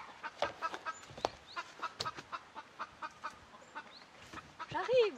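Hens cluck and squawk inside a henhouse, a busy run of short, close calls with one louder drawn-out squawk near the end, with a voice faintly underneath.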